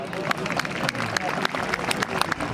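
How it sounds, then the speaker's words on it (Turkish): Crowd applause for oil wrestlers at a traditional outdoor oil wrestling festival in Atinova/Hersek, a dense steady clapping from the audience with scattered sharper claps and background babble. "Bu pehlivanlara bir alkış yapalım."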